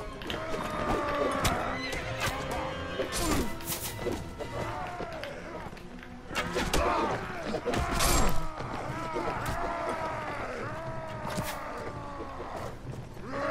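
Horses in the medieval battle game Mount & Blade: Warband neigh and whinny repeatedly over pounding hoofbeats and combat clatter, a busy, continuous mix of animal calls and impacts.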